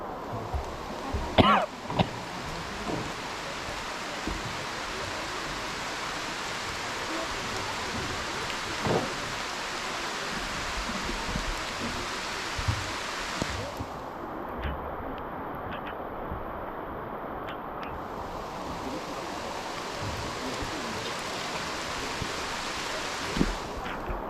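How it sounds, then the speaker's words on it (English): Heavy rain pours steadily near a waterfall in Thailand, a dense continuous hiss broken by a few close coughs and throat sounds early on. "The rain pours now"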